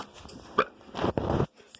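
A person lets out a short, close burp while cooking in a kitchen, with a quick gulping onset followed by a rougher, drawn-out belch, then quiet.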